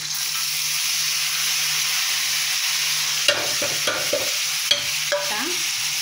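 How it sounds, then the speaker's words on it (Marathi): Fenugreek leaves tipped into a hot tempering for methi bhaji, a steady close sizzle and hiss with a low hum underneath, broken late by several sharp clatters of stirring against the pan. "आता हा मेथी यामध्ये टाकायचा, फोडणी द्यायचा"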